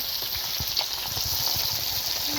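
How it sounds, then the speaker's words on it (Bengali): Rui fish frying in a pan, a continuous hiss of sizzling oil with scattered small pops and crackles, close and steady throughout. "মাছ ভাজা হচ্ছে এখানে"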